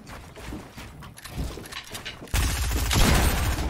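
Rapid gunfire bursts in Fortnite, a dense, loud rattle of shots that becomes heavier and more continuous partway through, close and sustained without any talking.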